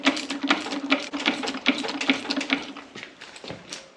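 A hydraulic hand pump is stroked to pressurize a newly made hydraulic hose past 2,000 psi, giving a quick series of faint rhythmic clicks and squeaks close by.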